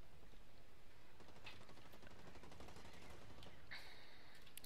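Gunfire from a weapon in the online shooter Blacklight Retribution, a quick run of rapid shots with mechanical clatter, steady and mid-distance over a constant game background.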